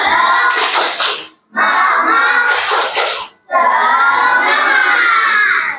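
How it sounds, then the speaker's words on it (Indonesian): Children in a lesson shout a rhythmic 'tepuk semangat' chant with patterned clapping, three loud close bursts separated by brief pauses, voices and hands together. "Coba tepuk semangat."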